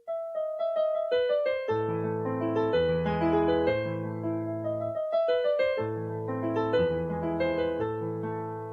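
A famous Beethoven melody played on piano, distinct notes building into fuller chords, moderately quiet and unaccompanied.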